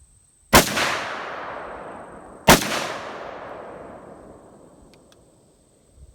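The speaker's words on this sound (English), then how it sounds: "We're going to shoot that tree if this is at all." Two loud, sharp rifle shots from an AK-47 style Vepr ring out outdoors about two seconds apart, each followed by a long decaying echo, with no talking.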